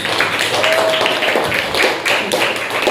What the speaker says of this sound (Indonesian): Tepuk tangan buat Mas Zuhud.